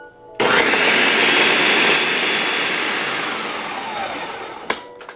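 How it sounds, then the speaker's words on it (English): A blender whirs loudly and steadily, mixing iced tea with lemon juice, Swerve sweetener and keto MCT oil powder; the motor starts abruptly, runs for about four seconds with a slight drop in pitch, then cuts off with a short clunk. "we're gonna blend this up to make sure that that Swerve and the LifeSense Keto MCT powder blends up really well"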